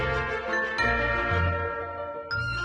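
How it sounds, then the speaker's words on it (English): Small bells hung on a Christmas decoration with brown burlap twine, jingling in a steady bright shimmer with a couple of sharper ring accents, close and continuous. "I did add some bells. These are small bells that I had purchased last year on Amazon."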